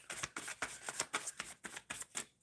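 Tarot cards being shuffled by hand close up, a quick run of about ten crisp riffling bursts in an even rhythm with no talk over them.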